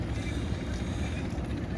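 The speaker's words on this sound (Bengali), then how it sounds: "পণ্যবাহী নৌকা" An engine-powered cargo boat moves along a river in the morning, its low, rumbling drone steady and fairly faint, with a person talking over it.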